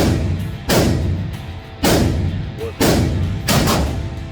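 .357 Magnum revolver shots ring out at a shooting range: four loud, sharp reports spaced about a second apart, each followed by a short, decaying echo.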